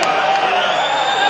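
A large crowd at Muhammadu Buhari's presidential inauguration in Nigeria gives off a dense, continuous roar of cheering and chanting, loud and steady across the brief moment.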